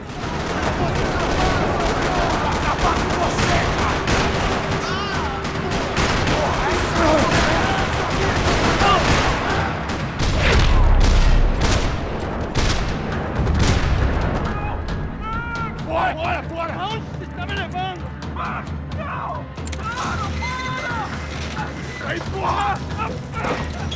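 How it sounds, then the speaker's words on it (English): Rapid bursts of gunfire rattle almost continuously in a parking lot in the video game Max Payne 3, amid a dense, noisy mix with voices shouting, loud and chaotic. "Another parking lot rattling with gunfire."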